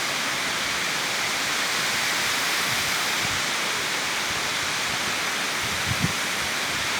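Tat Kuang Si waterfall near Luang Prabang, a steady, loud broadband rush of falling water that continues unbroken throughout, with no voices over it.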